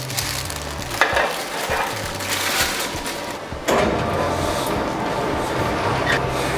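A mixer creams soft butter and sugar at medium speed, making a steady mechanical churning whir with rhythmic low thumps and a brief louder clatter midway.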